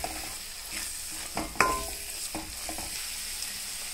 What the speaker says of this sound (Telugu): బాగా ఉడుకుతుందండి కర్రీ.